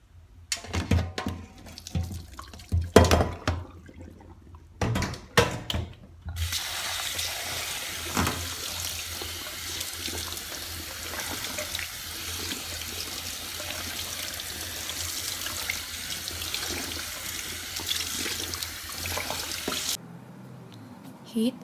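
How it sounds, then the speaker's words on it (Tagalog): Cold tap water runs steadily over drained glass noodles, a broad continuous wash rising after a few clattering handling knocks and stopping abruptly near the end. "Wash it with cold water and set it aside."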